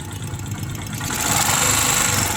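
A close motorcycle engine idles quietly with a low, steady rumble that swells slightly louder partway through; smooth and even, no voices.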